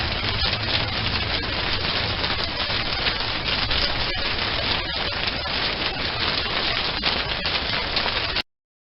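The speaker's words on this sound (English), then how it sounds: "So let us now hear the sound of the rainfall." Steady rainfall, a dense, even hiss of drops pattering without pause before cutting off abruptly near the end.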